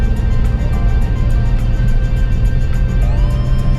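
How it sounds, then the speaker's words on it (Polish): A 1989 Citroën XM drives a winding uphill road, its engine a steady loud hum with road and wind noise inside the cabin, rising slightly in pitch near the end. "Natomiast nasz kochany samochód Citroen spokojnie daje radę"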